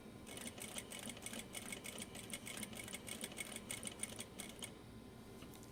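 Domestic sewing machine running steady bursts while topstitching a zipper pouch, rapid mechanical needle chatter starting and stopping in short runs, close and fairly quiet with no talking.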